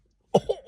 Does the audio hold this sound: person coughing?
yes